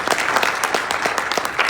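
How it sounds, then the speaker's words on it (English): A room full of people applauds the panel after a health and wellness panel discussion at a New York hospital, dense and steady clapping throughout with no voices over it. "Let's give a round of applause to our panel."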